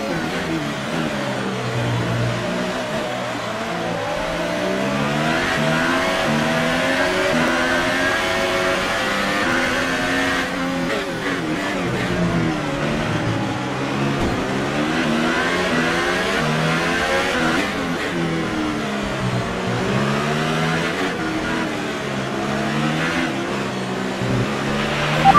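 An F1 car engine screams through rising and falling revs as it races at Azerbaijan in the video game F1 2018, loud and continuous with repeated gear shifts.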